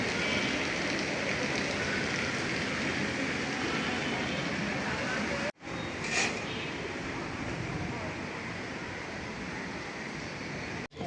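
Steady rain falls across a rooftop garden of potted plants, a dense, even hiss that runs throughout with a brief break midway, with no talking.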